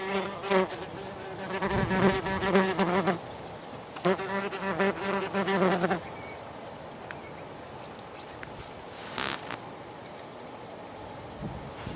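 Yellowjacket wasps buzz in loud bursts close by, swelling and fading in waves, then a quieter steady hum with a brief sharp buzz near the end.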